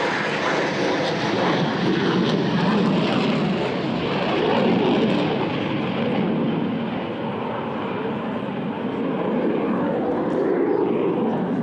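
A loud, continuous Super-Étendard jet roar fills the whole stretch, broad and steady, swelling slightly midway as it passes close by with landing gear, hook and flaps extended.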